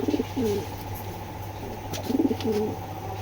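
Foreign pigeons coo in two clear rhythmic bursts of low throaty calls, close by over a steady background hum, with no talk.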